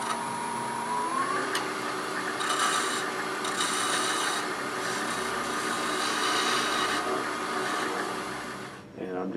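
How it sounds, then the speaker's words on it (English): A small wooden chickadee ornament spinning on a lathe while very light, gentle cuts are taken, giving a steady whirring hum with a bright scraping rasp of the tool that swells and eases over several seconds before fading out at the end. "taking very, very light, gentle cuts."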